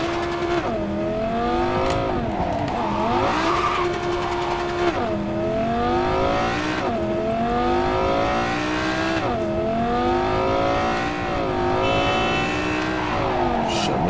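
Car engine in Cyberpunk 2077, driving steadily and loud up close, revving up through repeated gear shifts in a rising and falling pattern for the whole stretch.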